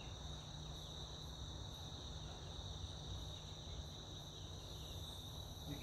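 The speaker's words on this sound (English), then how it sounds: "The crickets were even quiet. They just started going off now." Crickets chirp steadily through the night at an outdoor campfire camp in Texas, a continuous high shrill drone with soft pulsing, quiet and even, with no voices and only faint low background hum.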